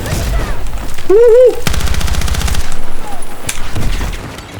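Rapid bursts of automatic gunfire crackle in the video game Battlefield 6, loud and close, mixed with a whistling tone and a sharp bang while a player talks over the action.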